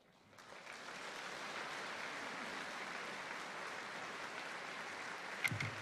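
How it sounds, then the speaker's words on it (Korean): A church congregation at a Saturday night revival service for the church's 46th anniversary claps in welcome. The applause is soft and distant, a steady, even wash of many hands that holds for several seconds. "우리 나오실 때 또 감사와 환영의 박수로 맞이하겠습니다."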